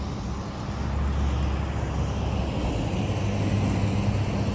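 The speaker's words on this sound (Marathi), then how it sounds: "हे बघा किती गर्दी आहे बघा गाड्यांची." Heavy road traffic of cars on a night road full of people heading back to Mumbai after the Ganpati festival, a steady continuous roar of passing vehicles with deep engine rumble, fairly loud and unbroken.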